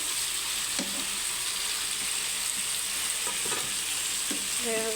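Sweet pumpkin frying in a pan is stirred with a spatula, giving a continuous sizzle broken by several light scraping and clinking strokes against the pan.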